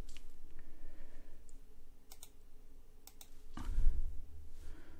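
Keys clatter on a computer keyboard during a Microsoft Flight Simulator stream setup: a few scattered light clicks, then sharper separated taps, and a dull thump near the end, all close and with no talk.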